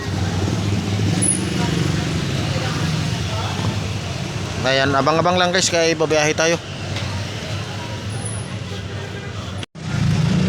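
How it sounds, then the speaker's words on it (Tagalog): Busy street traffic in Divisoria, Manila, with a steady roar of many vehicles and engines close by, while someone talks over the noise partway through. "Marami pong sasakyan talaga."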